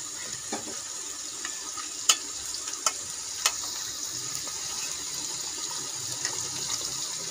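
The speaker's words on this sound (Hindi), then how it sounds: "अब इसमें टमाटर का पेस्ट डाल देंगे।" Tomato paste fries in a pan with a faint, steady hiss and sizzle, broken by a few sharp ticks and clinks of stirring, with no voices.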